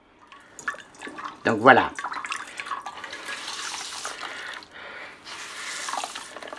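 Grated potatoes for herb rösti wrung out in a cloth, water dripping and trickling into a sink in short bursts while a person talks over it.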